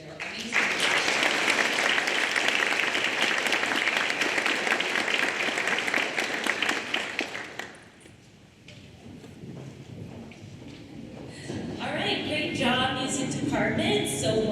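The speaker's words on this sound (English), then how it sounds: "would you thank and applaud these students for their amazing work" An audience at a senior awards night applauds students, a loud, dense roar of clapping sustained for about eight seconds before tapering into scattered claps, murmuring and footsteps, then rising again with more clapping and room noise.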